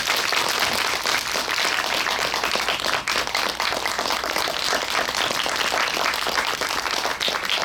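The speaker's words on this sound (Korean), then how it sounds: "큰 박수로 맞아주세요." Sustained audience applause fills a Seoul cinema theater at a film talk event for the movie The Table, steady and dense throughout with no voices over it.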